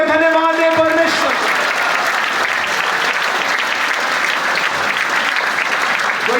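A church congregation claps loudly and steadily together after a prayer, a dense, continuous burst of applause that fills the room, with a voice heard faintly at the start.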